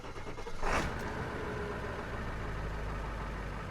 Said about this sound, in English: I can start the truck and bleed the system for the cooling video